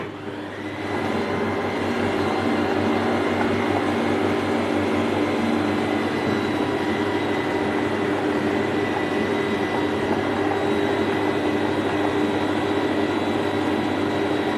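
A stand mixer kneads stiff bread dough with a steady, loud motor drone and a constant mechanical whir, running unbroken from start to finish with no voices.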